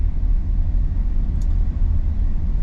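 A 2020 Toyota Granvia VX people mover van drives along, its engine and road noise forming a steady, loud low rumble inside the cabin.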